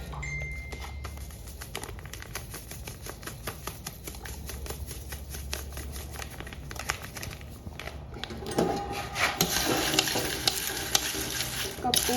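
Grasshoppers crackle and sizzle loudly in hot oil, with steady popping and scraping as they are stirred, growing brighter and busier toward the end.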